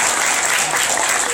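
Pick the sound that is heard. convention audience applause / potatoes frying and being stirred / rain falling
convention audience applause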